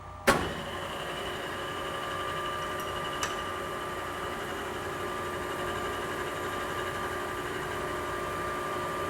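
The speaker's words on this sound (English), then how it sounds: "And he's going to turn this machine on, lube that piece up, and spin a copper sphere for us." A spinning lathe hums steadily after starting with a sharp click, running a copper disc being spun into a sphere; a constant tonal machine drone with faint ticks, no talk.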